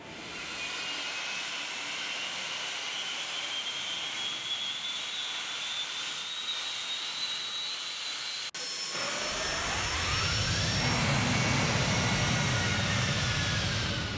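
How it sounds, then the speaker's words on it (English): A Boeing 757 jet engine spools up during start in Flight Simulator X, a rising whine that climbs steadily, then swells into a louder, fuller roar partway through, with no talking. "Let's go ahead and start engine number 2,"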